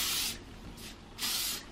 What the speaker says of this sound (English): and my fringe a little bit more hairspray